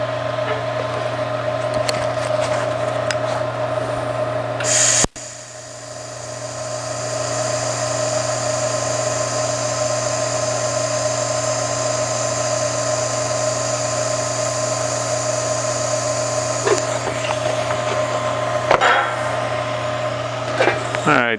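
TIG fusion welding on sheet metal gives a steady, continuous buzzing hum with a constant tone, close and fairly loud, with a brief break partway through and light handling noises near the end.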